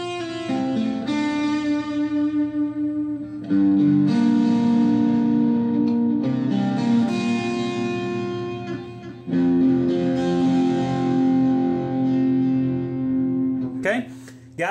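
Electric guitar plays the second verse of a song alone, with sustained chords and picked notes in phrases, a brief break near the middle, and a sharp accent at the end.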